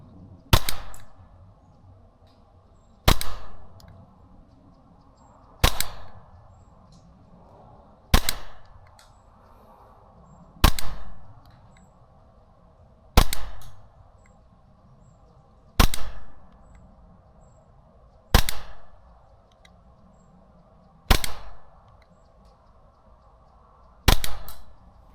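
A Novritsch SSP28 airsoft pistol firing 0.3 gram BBs, ten sharp snappy shots spaced roughly two and a half seconds apart, each with a short echoing tail in a quiet outdoor range.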